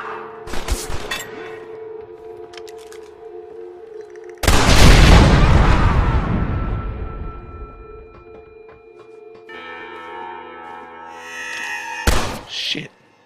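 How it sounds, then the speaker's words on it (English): A heavy TNT explosion in the video game Red Dead Redemption bursts out midway, followed by a long rumbling decay, with sharper thuds and clatter before and after against a steady tonal hum. "That TNT explosion missed that guy."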